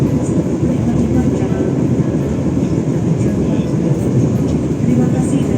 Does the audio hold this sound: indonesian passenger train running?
yes